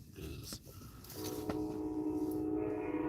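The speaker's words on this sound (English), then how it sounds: "God damn it, these trains." A loud train rumbles past close by, and a sustained horn-like drone sets in partway through and holds steady over the rolling noise, with no talking.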